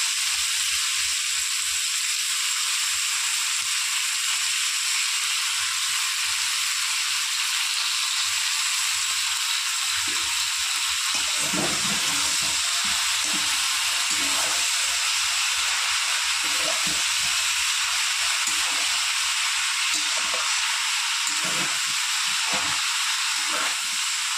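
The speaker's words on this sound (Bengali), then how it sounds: "সবজিগুলো আমার হালকা ভেজে নিয়েছি, এবার দিয়ে দেবো পালং শাক।" Spinach and vegetables frying in a pan give a constant, loud sizzling hiss throughout, and scraping stirring noises join in during the second half, all close and without speech.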